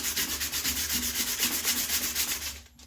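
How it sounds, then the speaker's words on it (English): Wood being hand sanded with 220 grit sandpaper along the grain, a rapid, even rhythm of rasping back-and-forth strokes, close and steady, that fades out at the end. "take a bit of 220 sandpaper,"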